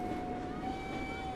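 Train in Assassin's Creed Syndicate, a loud, steady rolling rumble with a sustained high tonal whine from the running carriages, heard briefly with no speech.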